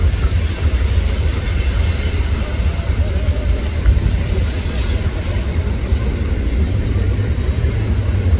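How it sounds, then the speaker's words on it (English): A freight train with distributed power locomotives and old hopper cars rolls past near a raceway, a loud, steady low rumble and roar that holds throughout, close by with no talk. "I think I'm hearing some more DPUs coming up."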